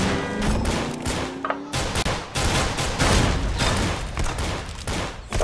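Dual pistols firing in the game Roblox Arsenal: quick, repeated shots in rapid clusters, loud and close, continuing through the clip with almost no talk.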